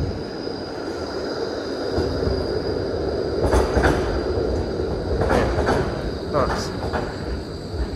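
A tram rolls past at the docks around sunset, a steady low rumble with rail clatter and faint metallic squeals that swell and fade over several seconds, heard from nearby.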